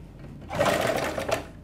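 A sewing machine stitches piping onto a boat neck on fabric, sounding as a short, fairly loud burst of rapid whirring stitches after a quiet start, with no voices over it.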